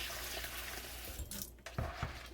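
Rice being rinsed in water in a kitchen sink, then strained: continuous splashing and swishing of water, with a few sharper drips and pours near the end.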